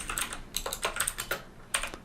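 Keys on a computer keyboard clatter in short, uneven bursts of several quick taps, close and crisp, with brief pauses between groups of strokes.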